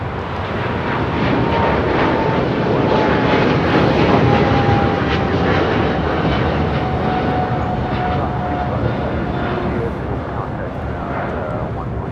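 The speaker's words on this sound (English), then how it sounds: "This is China Airlines Dynasty Flight 5 Heavy taking off to Taipei on a 777-300ER." A China Airlines Boeing 777-300ER takes off at LAX, its engines producing a loud, sustained roar that swells and then slowly eases, with a voice speaking over it.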